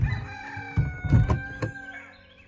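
A rooster crows close by, a rough, sputtering call broken into several bursts, fading out at the end.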